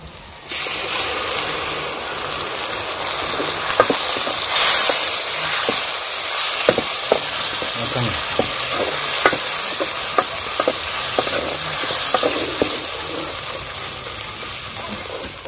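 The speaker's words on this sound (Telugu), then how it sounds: "ఇంక ఇప్పుడైతే టమాటా పండ్లు మిక్సీ పట్టిన టమాటా పండ్లు గుజ్జుని వేసుకుందాం." Chicken keema frying in a village kitchen pan as blended tomato pulp goes in and gets stirred, producing a loud, continuous sizzle with repeated scraping and clinking of the spoon close up.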